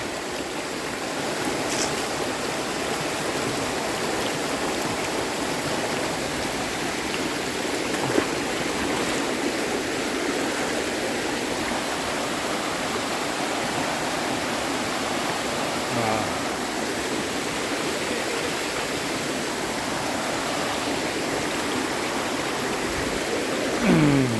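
The small Govinda Teertha stream near Belakal Teertha falls, Kollur, flows steadily, a constant rushing babble of water that stays even throughout, with faint voices now and then.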